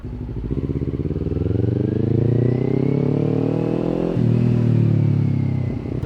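A Kawasaki Ninja 400 motorcycle engine revs and accelerates up through the gears, loud and close, with a brief dip at a gear shift before climbing again.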